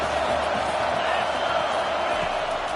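A stadium crowd roars steadily in College Football 25 during a Louisville versus Michigan game, a dense sustained wash of cheering noise.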